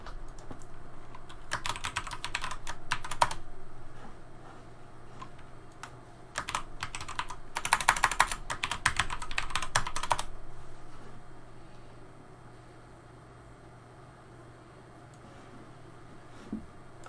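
Rapid clicking of typing on a computer keyboard comes in several bursts over a low steady fan hum, close by, then quiets to a faint background.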